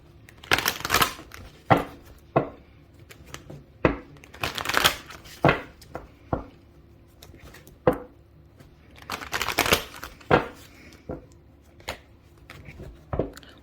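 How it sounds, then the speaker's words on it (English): A tarot card deck is shuffled by hand at close range, giving repeated riffling and slapping bursts in an uneven rhythm, fairly quiet, with short pauses between shuffles. "I'm going to pull some clarifications using this deck. I'm just going to shuffle."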